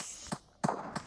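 Three sharp gunshots from the video game Chicken Gun, short cracking pops spaced unevenly within about a second, moderately loud and alone.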